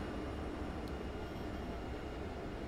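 Steady, broad engine roar from aircraft passing overhead on the way to Halle Leipzig airport, heard from a train cab in Train Simulator (Railworks). It keeps a constant level throughout and is moderately loud, with no talk.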